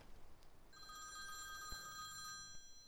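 A telephone rings out on an outgoing call to a farm contact, a steady electronic ringing tone repeating clearly over quiet outdoor background near a grass field.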